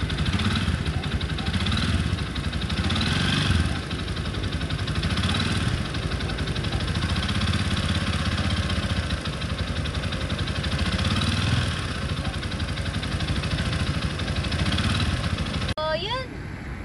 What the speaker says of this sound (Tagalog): papandarin na muna natin yung makina.